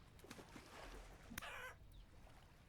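A rooster in Vintage Story clucks in short, faint bursts, with one sharper squawk in the middle, set against quiet background noise.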